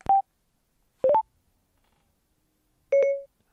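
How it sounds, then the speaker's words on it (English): A phone voice assistant, brought up by a tap on the rear mobile button of an iPhone or Android handset, sounds three short clean electronic tones, each a brief two-note chirp, separated by silence. "Waiting for that tone, that doo-doo"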